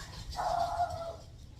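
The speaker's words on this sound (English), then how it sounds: "my dog just like really went off barking" A pet dog barks in a short outburst at middle distance, several quick overlapping barks merging into one sustained, fairly loud burst indoors.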